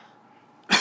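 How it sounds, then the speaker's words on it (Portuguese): A single sharp cough bursts out near the end, loud and close, after a stretch of quiet room tone during a spoken religious program. "estou com uma tosse"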